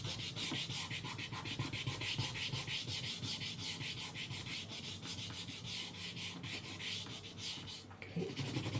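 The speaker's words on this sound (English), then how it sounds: "just rub that down on there" A name sticker rubbed down onto a 2024 Bell GP3 carbon helmet gives a steady, close, scratchy rubbing sound with quick rhythmic strokes throughout, ending in a short soft knock.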